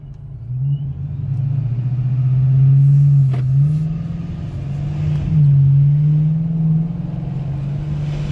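Car driving at 40 mph during a brake test, heard from inside as a loud, steady engine and road drone with gentle swells of acceleration.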